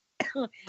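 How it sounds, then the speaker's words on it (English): A short burst of coughing up close, two or three quick rough hacks in under a second. "I can't stop coughing either at the minute."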